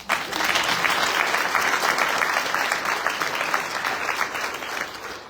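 An audience at a city State of the City address in Decatur applauds in a dense, steady burst of clapping that stays fairly even and tapers slightly at the end.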